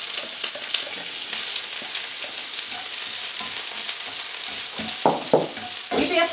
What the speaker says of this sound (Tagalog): Add the onion.